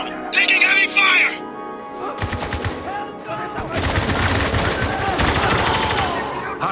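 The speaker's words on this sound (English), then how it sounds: "Taking heavy fire!" Rapid automatic gunfire in the Spec Ops The Line video game, with sharp repeated cracks and bursts building into sustained heavy fire, and a voice speaking over the opening seconds.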